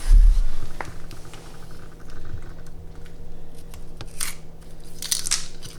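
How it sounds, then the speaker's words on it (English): A razor knife slices a small excess strip off thin wood trim, giving a few short crisp cutting and crunching sounds close by over a faint steady hum. "I'm going to be able to take my knife, my razor knife, and just cut that little bit"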